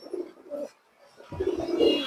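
A large-headed old pigeon with an eye ring gives low, rumbling coos nearby, a short burst, a pause, then a longer swelling phrase.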